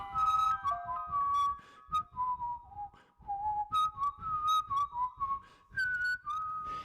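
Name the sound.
whistled melody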